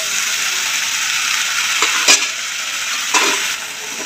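Field bean pods and chopped tomato sizzle loudly and steadily in a hot pan, with a couple of brief scraping clicks from stirring.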